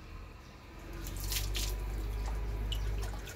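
Water runs and splashes in a washbasin during an outdoor bath, a steady close trickle with a few brighter splashy drips, no talking.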